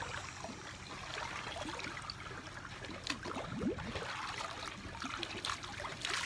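Fresh water trickles and splashes into a Sawyer gravity filter bag being filled from a source, a faint, continuous gurgling flow with small bubbling bursts.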